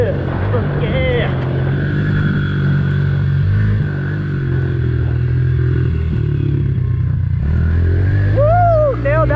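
A Honda pit bike engine revs hard on a track, a loud close buzzing drone that rises and falls with throttle changes and climbs sharply in pitch near the end.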